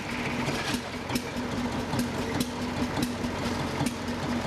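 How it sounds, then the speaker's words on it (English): A Delan-Belleville hot bulb semi-diesel engine runs steadily, giving a regular rhythmic knocking of sharp thumps about every half second over a continuous low mechanical hum, moderately close and alone. "The Delan-Belleville hot bulb semi-diesel engine is a robust early internal combustion design built for steady industrial and marine use."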